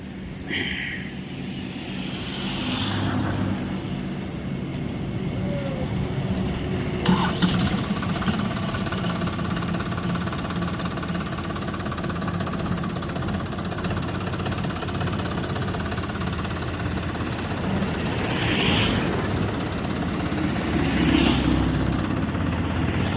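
A New Holland Excel four-wheel-drive 47 hp diesel tractor engine runs steadily at a constant low rumble for the whole stretch, with a few brief clanks.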